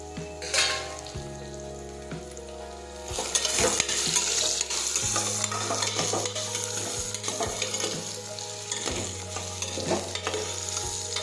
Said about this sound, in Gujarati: હવે આપણે તુરિયા સમાર્યા છે તે નાખી દઈશું.